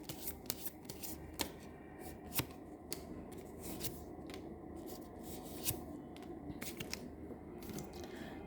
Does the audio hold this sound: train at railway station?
no